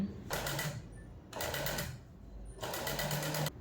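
A sewing machine stitches piping cord folded into the slot of a katori blouse in three short whirring bursts with brief pauses between them, with no talking.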